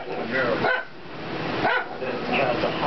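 An Italian Greyhound barks at its own reflection in a mirror, loud close yaps in about three bursts with short gaps, while a person talks over and between the barks.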